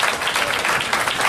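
Brief burst of audience applause at a dance festival awards ceremony, steady dense clapping throughout with no voices.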